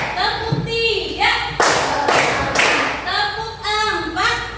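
A class of children chants in unison between three sharp group claps, spaced about half a second apart, as part of a counted clapping routine in a classroom.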